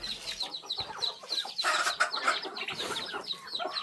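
Chickens cluck in a close, busy overlapping chorus at a rural Lao or Thai village farm, with sharp repeated calls and a steady background murmur of birds.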